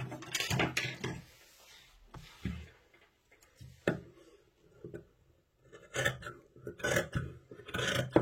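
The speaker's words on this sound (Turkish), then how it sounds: "Tam çizgiden kesiyorum." Scissors cut fabric along a drawn line while a table runner is sewn, giving bursts of crisp snipping and rasping in short clusters with pauses between, close and moderately loud.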